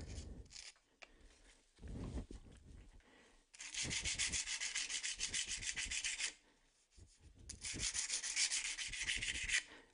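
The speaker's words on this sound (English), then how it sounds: "Or even get a bit of sandpaper." Sandpaper rubbing back and forth along a wooden edge to flatten it, two long bursts of steady rhythmic scraping strokes, close and fairly loud, with quieter handling noises between.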